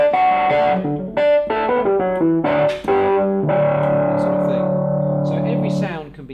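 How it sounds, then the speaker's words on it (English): A Casio PX-5S digital stage piano played with a distortion effect, giving gritty, driven sustained tones in a short run of notes that ends on one long held chord, loud and alone. "I can just introduce some distortion"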